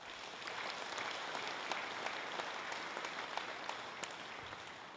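A church congregation applauds during a morning worship service at a national elders' assembly, sustained even clapping from many hands with scattered sharper claps standing out, moderately distant and steady for the whole stretch.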